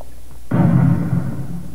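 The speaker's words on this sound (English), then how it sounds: "Fuel explosion." A sudden deep boom bursts out after a brief quiet, then a rumbling roar that lingers and slowly fades: a fuel explosion in a video game.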